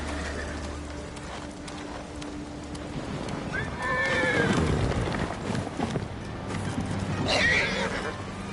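Sora, a horse in the video game Ghost of Tsushima, gives a loud neigh and whinny around the middle of the clip and again near the end, with hoof clip-clops and game ambience underneath.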